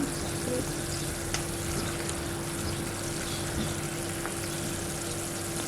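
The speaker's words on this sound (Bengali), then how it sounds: "শিরায় বলক চলে এসেছে মিষ্টিগুলো একটু নেড়ে ছেড়ে দেখব সফট হয়েছে কি না" Chhana sweets being stirred in boiling sugar syrup, giving a steady, close bubbling hiss with one or two faint knocks from the stirring.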